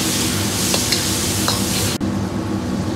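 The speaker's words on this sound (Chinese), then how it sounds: "接着下入小料葱姜蒜片，来炒出香味" Pork belly stir-fried in a wok with scallion, ginger and garlic slices, a steady loud sizzle under a few quick scrapes of the spatula, with a brief clatter partway through.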